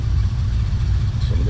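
A car engine idles steadily in a hotel parking lot at a Goodguys Spring Nationals car show, a loud, low, even rumble held close throughout with a slight pitch shift near the end.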